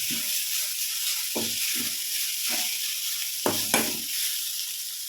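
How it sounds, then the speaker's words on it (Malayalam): Crushed spice paste fries in oil in a pan for a medicinal rasam, giving a steady close hiss of sizzling broken by a few short stirring scrapes. "കുറച്ച് എണ്ണ ഒഴിച്ചു കൊടുത്തിട്ടുണ്ട് അതിലേക്ക് നമുക്ക് ചതച്ച് വെച്ചിരിക്കുന്ന അരപ്പിട്ട് ഒന്ന് മൂത്ത് വരട്ടെ"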